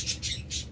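A pet lovebird for sale gives a quick run of sharp, close squawks, three or four harsh bursts in under a second, loud and alone.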